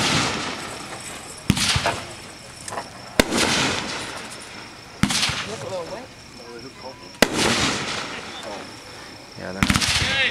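Mammoth Brocade fireworks going off outdoors: five sharp bursts at irregular intervals, each trailing into crackling sparkle, with other booms and chatter under them and people talking nearby.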